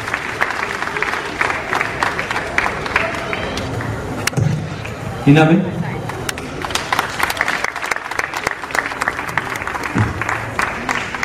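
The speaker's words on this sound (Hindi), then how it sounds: "ये ताली बजाइए।" Crowd at an open-air public meeting in Mumbai clapping along under continuous amplified talk, with dense, steady applause running throughout and a brief louder burst partway through.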